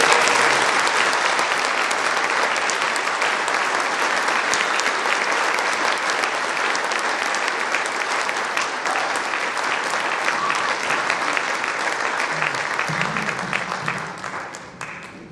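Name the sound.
audience applause for a symphony band performance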